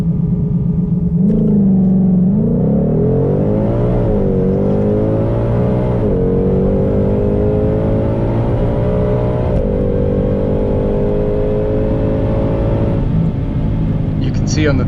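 A 2022 Ford Shelby GT500 on a drag strip pass at Lebanon Valley Dragway, its engine roaring loud and close as it climbs through the gears, pitch rising and dropping at each shift. A voice talks over it.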